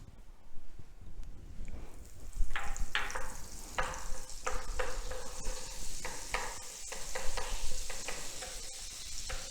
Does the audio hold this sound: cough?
no